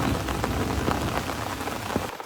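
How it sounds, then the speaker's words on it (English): Heavy rain pours beside a stream, a dense, steady hiss of drops with scattered louder splashes, close and constant throughout before it cuts off abruptly at the end. "It's been raining, and it's raining heavily."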